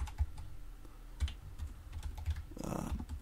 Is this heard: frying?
no